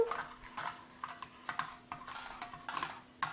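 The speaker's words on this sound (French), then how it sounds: "Là, je suis en train de bien mélanger." Homemade glue-free Halloween slime mixture being stirred in a bowl, giving soft, irregular scraping and squelching strokes at a steady, unhurried rhythm, close and fairly quiet.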